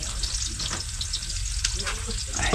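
Hot cooking oil sizzles steadily while garlic and aromatics are sautéed for a Filipino patola and misua soup, a continuous close frying hiss with small crackles throughout.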